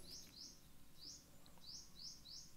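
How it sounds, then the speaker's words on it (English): A noisy bird outdoors in the early morning gives a run of quick, repeated high chirps in short bursts, faint against a soft background hum. "Really noisy bird out this morning."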